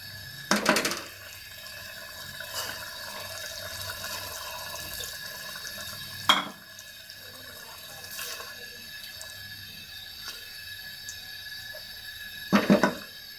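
A quarter cup of water splashes briefly into a pot of cooking balti gosht a few times over a quiet, hissing kitchen background, with short bursts near the start, middle and end.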